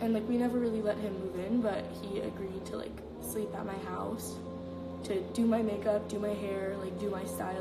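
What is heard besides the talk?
No everyday noises stand out.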